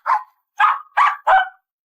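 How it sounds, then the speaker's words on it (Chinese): A pet dog barks four times in quick succession, loud, close and sharp, with short gaps between each bark and no other sound around them. "小女孩带来的宠物狗似乎发现了沙发下的异常，开始狂吠不已"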